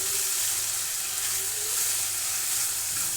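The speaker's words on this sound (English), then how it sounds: "Cook them a bit." Carrots stir-frying with instant noodles in a hot pan give a steady, close sizzle that holds at an even level throughout, with no talking.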